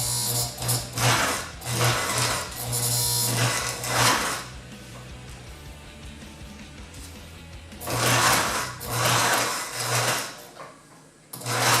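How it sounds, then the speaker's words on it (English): Sewing machine stitching car upholstery for a custom Chevrolet Suburban, running in several bursts of rapid rhythmic stitching with short pauses between runs, close and fairly loud. "I'm gonna go ahead and fold this over and put a second stitch in here."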